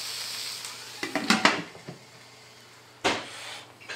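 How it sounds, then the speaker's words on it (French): A lid is set on a cooking pan while onions soften for a giant burger, with a cluster of metallic clanks and rattles followed by a single sharp clatter, then a low sizzle beneath. "Donc on va mettre le couvercle"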